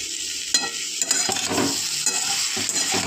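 Mixed vegetables with a little sugar fry in a pan, a loud close sizzle with repeated stirring scrapes and spatula knocks throughout.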